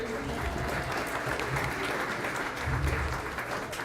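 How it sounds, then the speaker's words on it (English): Audience applause at a psychedelic conference in Kansas City for the speakers and presenters, a steady dense wash of clapping from a large crowd that holds at an even level for the whole stretch. "Let's give a round of applause for our speakers and presenters."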